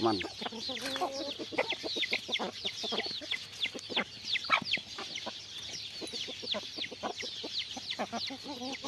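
Male jungle fowl kept for breeding cluck and squabble, with dense rapid clucks and short squawks overlapping nearby throughout, over a low steady hum.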